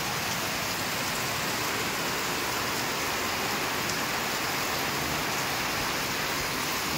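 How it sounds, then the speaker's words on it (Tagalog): Very heavy, unceasing rain in Daet, a dense loud hiss of downpour pounding surfaces evenly and continuously throughout, with no pauses or other sounds. "Grabe po ang lakas ng ulan,"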